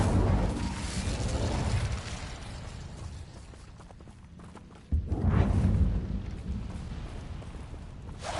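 An Incendio fire spell cast in a Harry Potter video game near a Thestral nest, a roaring whoosh of flame that swells suddenly and sustains loudly over a rumbling game background.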